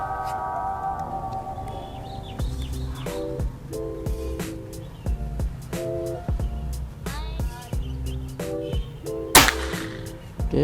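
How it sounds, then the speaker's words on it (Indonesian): Several sharp, short cracks of a PCP air rifle firing, scattered across the clip amid a busy background of overlapping music-like tones, one shot notably louder near the end. "Tembakan ketiga."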